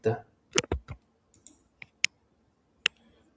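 Computer mouse clicks during software use, a few crisp isolated clicks spaced apart after a short stretch of talking at the start.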